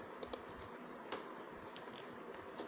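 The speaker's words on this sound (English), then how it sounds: "I just copy the same lines and I just type it here" Computer keyboard being typed on while writing script code, a few quiet scattered keystroke clicks close by over a faint steady room hum.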